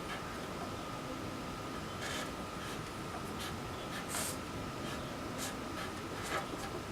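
A pen writes a chemical formula by hand on paper. Quiet scratchy strokes come in short bursts over steady background hiss, faint and close, with no voice.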